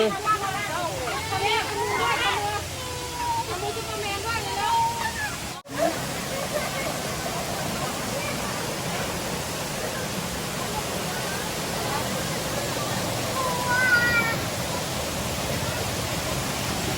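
A garden waterfall at a Buddhist temple in Korat gives off a steady, broadband rush of falling water throughout, with voices talking over it.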